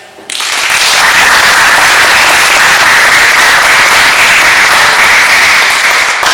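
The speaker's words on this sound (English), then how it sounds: "Can I give an applause for all candidates?" Audience applause for election candidates at a mayoral candidates' forum: dense, steady clapping from a crowd that starts abruptly and stays loud and full for several seconds, with no talking over it.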